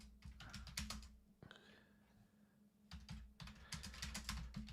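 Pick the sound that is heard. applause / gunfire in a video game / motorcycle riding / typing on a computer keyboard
typing on a computer keyboard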